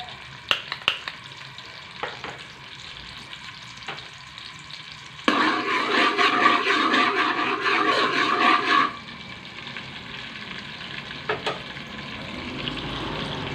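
Cooking oil heats in a pan on a stove, with a burst of loud sizzling and frying that lasts a few seconds among quieter kitchen clatter and clicks.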